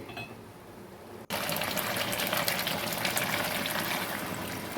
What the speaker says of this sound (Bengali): সামান্য একটু জল দেবো, দিয়ে কষবো।